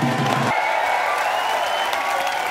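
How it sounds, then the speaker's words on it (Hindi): Studio audience applause at a television comedy show, loud continuous clapping and cheering from a large crowd, heard up close. "प्लीज वेलकम आपकी जोरदार तालियों के बीच"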